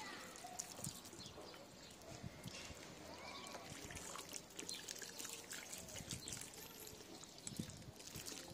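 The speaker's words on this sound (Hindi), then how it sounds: "पानी डालते हैं इसके अंदर।" Water poured from a container into a bucket of soil sown with seeds, a continuous soft splashing trickle with small gurgles, moderately faint and without voices.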